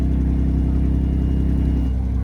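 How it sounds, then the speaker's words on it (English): A car with a racing straight-pipe sports exhaust and no silencer rumbles loudly and close, a deep throbbing idle that holds steady with no talking. "That's straight pipes. So there's no exhaust silencer, just racing straight pipes."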